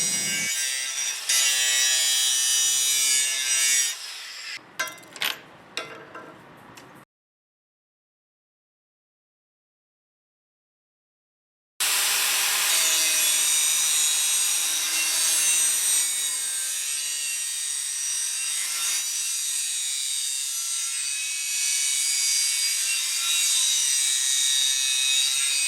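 A Dewalt FLEXVOLT 54V brushless 125mm angle grinder (DCG414) bevels the edge of a steel I-beam with 14mm flanges, a loud harsh grinding screech broken by a few short bursts and a silent gap before grinding resumes steadily.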